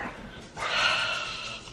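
Dogs whine and yip indoors for under two seconds: a quieter start, then a louder, sustained whimpering stretch with a few sharp barks mixed in.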